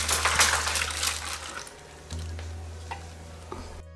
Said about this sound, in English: take that can of beef broth, pour it in the bottom of the crock pot